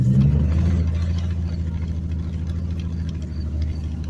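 A car engine idles and rumbles steadily close by as the vehicle creeps slowly along a dark residential street, the low drone continuous and even throughout.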